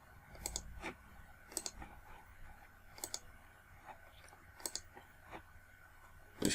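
Sparse computer mouse clicks during work in structural engineering software, about five or six sharp isolated clicks spread over several seconds, faint and close, with no voices.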